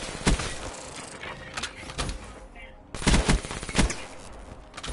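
Gunfire in Black Ops 3: loud, close bursts of automatic shots, sharp and repeated, with a brief lull in the middle before the firing resumes.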